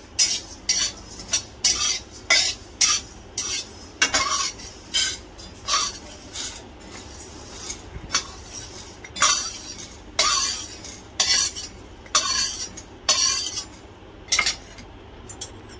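Chakli flour ingredients are dry-roasted in a pan with a spoon, bursts of scraping and metallic clinks coming in a repeated stirring rhythm, close and fairly loud, with no talk.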